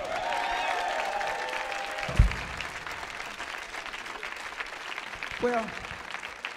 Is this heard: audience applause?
yes